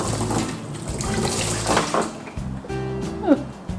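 Hot water running from a tap for cleaning out a freezer, a steady close splashing rush with a few clinks of containers and shifting flow near the end.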